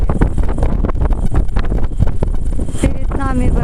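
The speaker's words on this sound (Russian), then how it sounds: "Ветер свистит, прямо с ног сбивает" Strong wind roars and buffets across the microphone on a mountain at about 800 metres, loud and continuous with gusty surges, while a voice talks over it.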